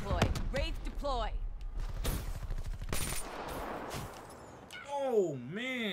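Gunfire in the Black Ops 3 video game: clusters of rapid, loud shots and bursts with impacts, mixed with game voice lines and a player talking over the action.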